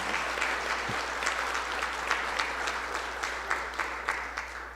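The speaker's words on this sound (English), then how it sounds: "If we give those guys a round of applause, I'd appreciate it." Audience at a hall of fame banquet applauds steadily, a dense wash of many hands clapping in a hall, sustained at even strength throughout without any talk.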